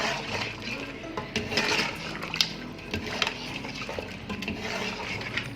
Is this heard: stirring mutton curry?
yes